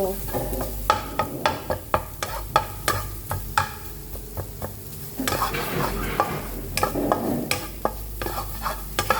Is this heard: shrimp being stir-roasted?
yes